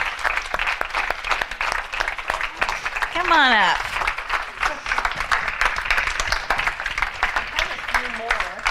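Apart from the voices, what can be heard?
audience applause for helpers coming on stage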